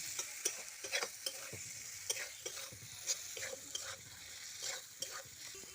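Spices and chili powder are stir-fried in a pan for a pāpaṛ curry, a quiet steady sizzle broken by irregular scraping stirs and light clinks.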